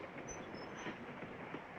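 A passenger train runs steadily, heard from inside a compartment in a 1959 film scene as a faint, continuous rolling rumble with no voices.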